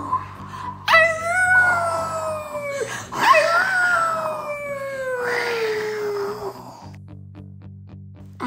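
A dog howls in two long, wavering, falling cries with a brief yelp between them, close and clear over a low background hum.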